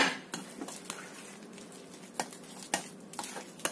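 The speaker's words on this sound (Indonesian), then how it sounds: "Kita aduk lagi" A utensil stirs mashed potato mixed with minced garlic in a bowl, giving soft scraping swishes punctuated by sharper taps against the bowl, close and fairly quiet with no talk.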